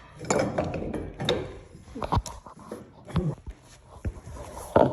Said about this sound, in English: I'm gonna bring another wrench to hold it in place while I untwist this